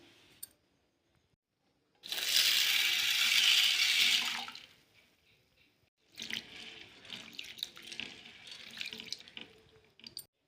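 Urad dal and parboiled rice rinsed in a kitchen for making vada, with a steady rush of running tap water followed by splashing, sloshing washing sounds up close, and no talking.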